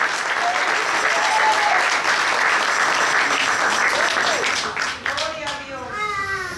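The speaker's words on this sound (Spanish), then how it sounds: "Fuerte el aplauso." A church congregation at a pastor's installation service in West Palm Beach applauds loudly and steadily, with voices calling out over the clapping as it tapers near the end.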